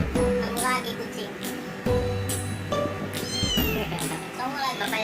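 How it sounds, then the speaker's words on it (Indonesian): A cat meows repeatedly inside a car, giving several clear, wavering cries spread across the span, while people talk nearby. "Kucing dalam mobil."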